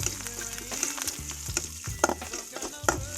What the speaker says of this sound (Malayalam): അപ്പോൾ അതിൽ ഉള്ളിയൊക്കെ ഇട്ടിട്ട് നന്നായിട്ട് വഴറ്റി കൊടുക്കുന്നുണ്ട്